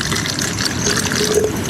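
Water poured out of a vessel outdoors while making coffee, a steady splashing, trickling flow that is close and fairly loud throughout.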